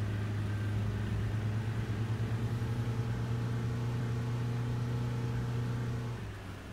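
A BB40 bus engine in Fernbus Simulator drones with a low, pulsing hum at a constant pitch, then winds down near the end; no talking.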